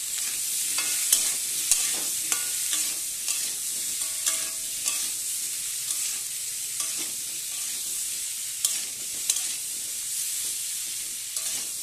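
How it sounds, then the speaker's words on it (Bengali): Potatoes, already soft and slightly overcooked, are stirred in a hot pan with a pinch of salt and turmeric. A steady frying sizzle runs underneath scattered scraping clicks from the spoon, sounding close and without talk. "দিয়ে এবার একটু নাড়াচাড়া করবো"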